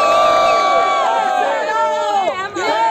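Crowd at a Brazilian rap battle, Batalha do Museu, cheers and shouts loudly and continuously, a dense roar of voices with whoops running through the whole stretch.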